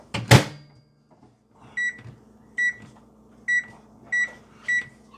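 After a door thud, a microwave oven hums faintly while melting butter, then sounds five evenly spaced electronic beeps as it finishes.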